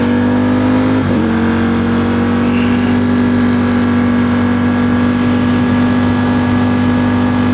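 Ducati Streetfighter V4S motorcycle engine idling steadily at close range, a constant loud low drone with a brief blip of revs near the start and no talk.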